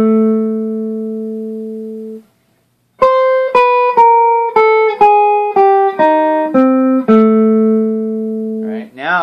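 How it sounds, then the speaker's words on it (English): A guitar playing a chromatic run from C down to G in a Charlie Christian-style jazz solo: a held note, a short gap, then a string of separate stepping-down notes ending on a sustained tone, with no talking. "this is a chromatic run, starting at C, going down to G."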